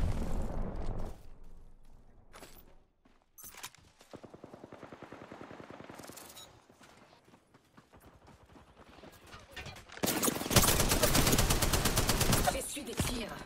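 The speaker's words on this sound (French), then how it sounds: "On me tire dessus!" Gunfire from the Apex Legends video game comes in bursts of rapid automatic shots, some quieter and some near, ending in a loud sustained volley. A voice is heard between the bursts.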